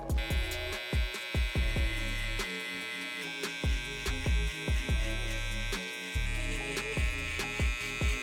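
An electric hair clipper buzzes steadily during a mid fade haircut, close and loud, with its tone dropping into repeated short pulses as the blade passes through hair, and no voices.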